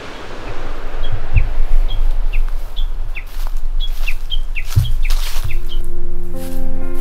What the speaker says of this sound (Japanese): ウグイスには警戒されてしまったようです。